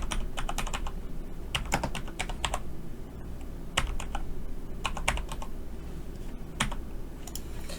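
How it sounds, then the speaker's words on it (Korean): Steady, rapid keystrokes clatter on a computer keyboard close up, with occasional louder key presses standing out in an uneven rhythm and no talking. "쉬프트 엔터 해놓고 또 작성합니다"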